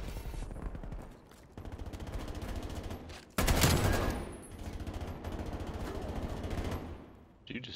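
Rapid automatic gunfire in a shooter video game, sustained bursts of rattling shots with a brief louder blast midway, fairly faint overall and continuing nearly the whole time.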